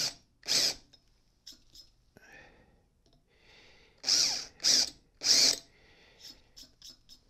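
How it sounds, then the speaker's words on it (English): A power drill with a countersink bit gives several short bursts of high whirring, each a second or less, separated by quiet pauses and faint handling noises. "I'm going to use this to countersink the hole just a little bit."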